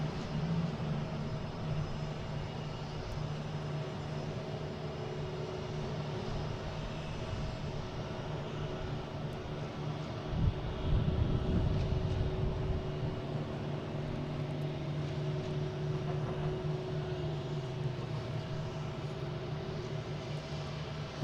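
A Boeing 737 MAX 8 airliner at Boston Logan airport produces a steady, distant jet engine drone, low and continuous, with a brief louder rumble swelling midway through.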